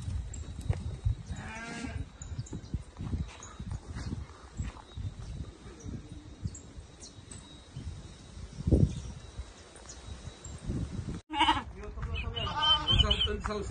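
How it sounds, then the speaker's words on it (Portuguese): A flock of Dorper sheep bleats repeatedly on a farm in Toritama, Pernambuco, with several animals calling near and far amid shuffling hooves, while people talk throughout. "Vamos deixar aí ele passando as ovelhas aí para vocês verem"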